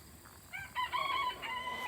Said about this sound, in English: These are chickens.